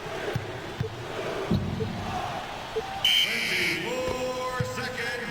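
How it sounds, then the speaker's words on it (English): Arena buzzer sounding at the end of a quarter in the NBA 2K basketball game on Dreamcast, a loud sustained electronic tone over crowd noise, ball bounces and commentary. "There's the buzzer at the end"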